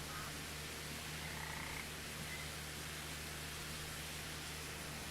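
Frogs croaking within farm map ambience in Farming Simulator 25, faint and distant beneath a steady hiss of broadband background noise, with no talk.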